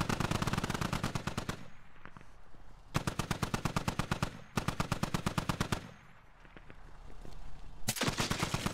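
Automatic gunfire in the military shooter game Squad, long loud rapid bursts fired close by, separated by short pauses, several sustained strings of shots in a row with no talking.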